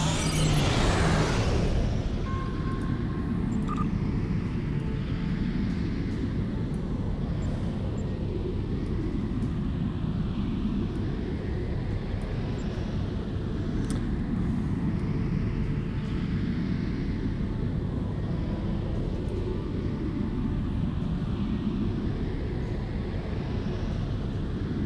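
A starship in Star Trek Online enters slipstream, a steady, heavy, low roaring drone that swells briefly at the start and then holds as a continuous rumble.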